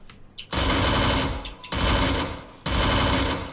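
Gunfire from the Free Fire mobile battle royale game comes in three long, loud sustained bursts of rapid automatic shots separated by short gaps, filling the whole clip with no talk.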